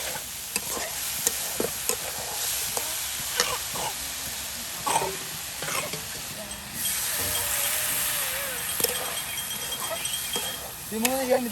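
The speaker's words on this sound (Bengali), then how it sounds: "আপনার ডাল ভাজা ভাজা করে নেওয়া হচ্ছে" Lentils fry in oil in a pan and are stirred, a steady sizzle and hiss broken by scraping and clinking of the spoon, close by, with voices talking at times.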